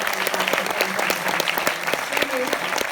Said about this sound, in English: I want you to all give them a fantastic round of applause